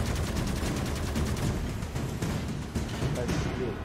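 Rapid bursts of gunfire in the video game Dysmantle, a dense, loud, continuous volley of shots fired in a circle during a boss fight against the Law of Borealis Station.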